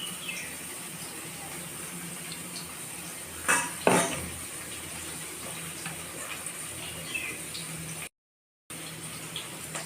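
Paneer fries in a kadhai for an onion- and garlic-free paneer masala: a steady, close sizzle runs throughout, broken by a couple of brief utensil clanks near the middle.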